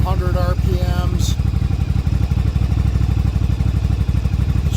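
A Yamaha Virago 750 chopper idles steadily, its loud, low engine drone continuous throughout, with a short clatter near the start.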